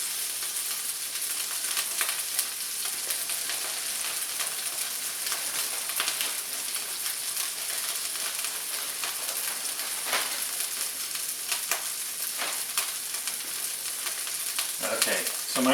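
Smash burger patties sizzle and fry on a hot griddle, a loud, steady crackling hiss that continues throughout with small pops and faint scraping.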